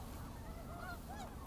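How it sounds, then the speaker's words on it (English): Migratory birds, goose-like honkers, calling at Merced National Wildlife Refuge beside an interstate: scattered faint, distant honks rise over a steady broad background rumble, with no talking. "these are all migratory birds"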